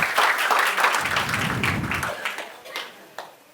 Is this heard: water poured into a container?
no